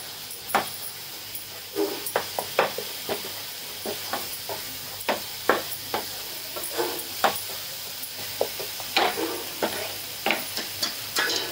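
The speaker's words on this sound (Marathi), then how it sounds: "थोडा पिवळा मसाला आणि आता हे चांगलं परतून घेऊया आपण" Egg bhurji gravy with yellow masala being sautéed in a pan, a spatula scraping and stirring in repeated short strokes over a soft, steady sizzle, close and alone with no talking.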